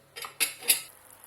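A spoon stirs chicken and vegetables in a cooking pot, giving three short clinking scrapes in quick succession, close and clear, with no talking.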